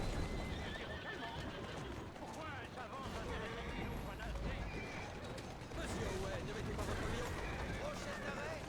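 Horse hooves clip-clop at a steady pace through a video game set in London while the horse neighs and mechanical creaks sound, continuous and fairly close under a busy, dense game mix.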